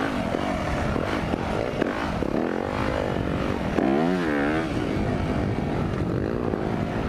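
A KTM 350 dirt bike engine runs steadily while being ridden. The drone is loud and continuous, with the revs rising and falling, and wind buffets the sound throughout.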